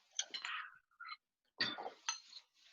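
A spoon clinks against a glass cup while pudding is layered into it, giving a few quiet, bright taps and scrapes in short bursts separated by pauses.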